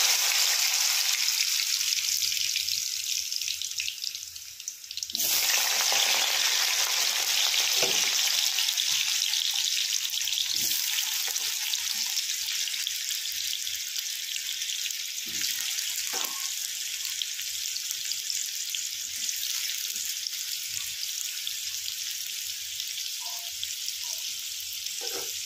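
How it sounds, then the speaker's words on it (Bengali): Potatoes fry in oil with a loud, steady sizzle that surges as more pieces drop in, then settles into a continuous crackle with occasional faint clinks close by. "এই যে আমি এবার আলুগুলোকে দিয়ে দেবো অল্প অল্প করে, মানে পুরোটাই ছেড়ে দেবো তেলে।"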